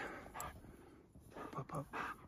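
A dog outdoors at a snowy Southern California mountain home gives a few short barks and whimpers in quick bursts, moderately close, mixed with a person talking.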